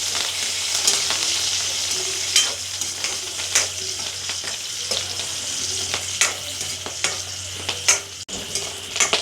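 Dried red chillies frying in oil, a steady close sizzle with occasional stirring clinks and scrapes over about nine seconds, all without speech.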